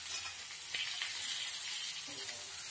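Potatoes, eggplant and vegetable stalks sizzle steadily in a hot pan, a continuous bright frying hiss with faint stirring clatter, close and fairly quiet, no talking.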